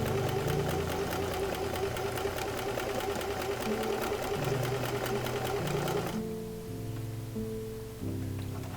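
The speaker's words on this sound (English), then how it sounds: "I just stitched the pintucks as close to the edge as I could" A sewing machine stitches pintucks into fabric with a continuous, close mechanical whir and rapid needle clatter, and its pitch shifts as the speed changes. No voices.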